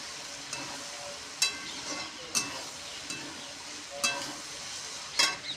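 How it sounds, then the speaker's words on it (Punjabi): Okra and onion frying in mustard oil, a steady close sizzle with a few sharp stirring scrapes and clinks recurring every second or so, no voices. "ਪਹਿਲਾਂ ਸਰੋਂ ਦੇ ਤੇਲ ਭਿੰਡੀਆਂ ਭੁੱਜੀਆਂ ਆਪਾਂ ਨੇ ਬਾਅਦ ਪਿਆਜ਼ ਪਾਤਾ"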